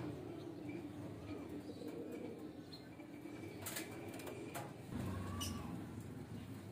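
A pigeon coos softly at a breeder's loft, with low murmuring calls under a continuous background hum and faint chirps from other birds.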